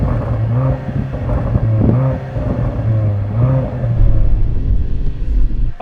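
Sports car engines and exhausts rev hard in turn, an Audi S5, Mercedes-AMG C43 and BMW M340i lined up for a drag race, with loud rising and falling bursts and a deep rumble that stays close and steady throughout.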